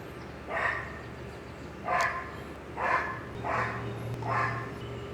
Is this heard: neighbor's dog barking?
yes